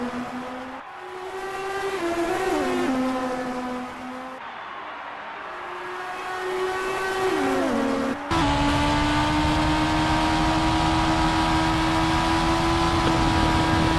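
Formula 1 cars race at the Spanish Grand Prix, their high-pitched engines screaming loud and close, the pitch sweeping up and down through gear changes before a second car's howl takes over at steady full throttle.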